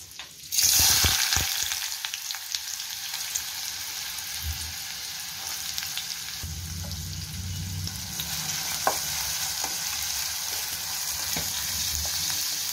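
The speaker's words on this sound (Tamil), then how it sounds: "இப்போ எண்ணெய் காஞ்சிச்சு, வெங்காயத்தை போட்டுக்கலாம்." Onions dropped into hot oil for a Kerala-style fish fry dish, a sudden loud burst of sizzling that settles into a steady crackling fry, with occasional stirring clatter from the pan.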